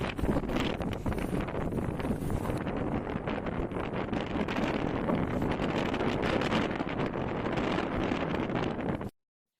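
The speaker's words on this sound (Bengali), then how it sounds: "কত পরিমাণে বাতাস দেয়।" Strong wind blowing over open water, a loud, unbroken roar of gusts buffeting the microphone, with a faint rustle underneath and no talking.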